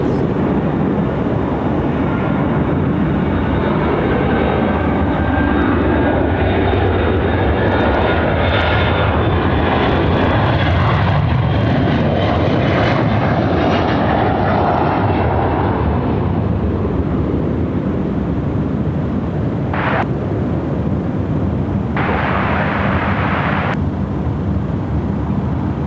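A large jet taking off at night from Sydney Airport roars loud and close, a broad rumbling engine blast that swells over the first fifteen seconds and then slowly fades into a distant drone.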